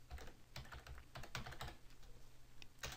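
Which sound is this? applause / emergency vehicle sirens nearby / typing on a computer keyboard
typing on a computer keyboard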